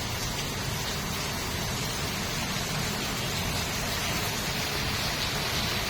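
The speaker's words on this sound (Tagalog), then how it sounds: "Grabing ulan guys." Heavy rain pours down steadily during a storm, a dense, loud, unbroken hiss with no voices or pauses throughout.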